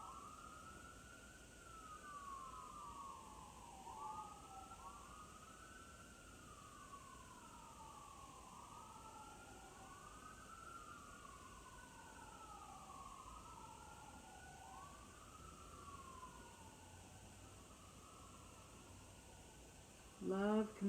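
An ambulance siren wails in repeated rising and falling sweeps for about twenty seconds, faint and distant under a quiet background, ending with a short louder burst.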